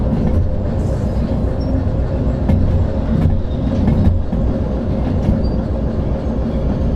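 Steady, loud rumble of a train rolling along the tracks in the Derail Valley video game, with a continuous low drone and faint intermittent clicks of wheels over rail joints, running unbroken with no talk.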